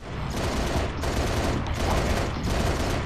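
Sustained automatic gunfire in the video game Halo Reach, a dense, loud, continuous rattle with slight surges in intensity and no clear pause.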